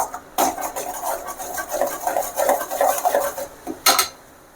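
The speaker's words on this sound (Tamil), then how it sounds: "அதாவது கட்டி பிடிக்காமல் நல்லா கிளறி கொடுத்துங்க" A metal spoon scrapes and clanks against a pan while curry leaf thokku is stirred, a steady run of rubbing strokes with two sharper knocks, fairly close and without talk.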